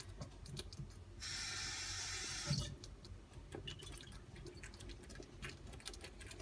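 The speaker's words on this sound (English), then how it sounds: "I'm going to put some water in the jar to catch up the last of the yummies too." Water from a kitchen tap runs into a jar for about a second and a half, a steady hiss with a small clink at the end, set amid quiet cooking sounds while making chickpea korma curry.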